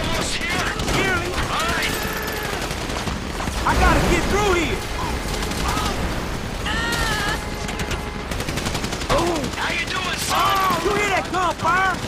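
Rapid gunfire in Grand Theft Auto 5 during a heist shootout, dense bursts of automatic shots over game music and chaotic effects, with someone shouting briefly in the middle of it.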